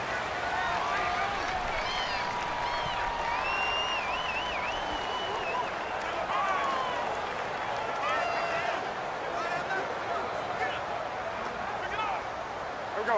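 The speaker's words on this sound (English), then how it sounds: "The crowd's not doing that O-line any favors. Home field advantage is really kicking in" A stadium crowd in the Madden NFL 19 football video game, Carolina Panthers against Atlanta Falcons, keeps up a steady loud roar with cheering and whistles throughout, while commentators talk over it.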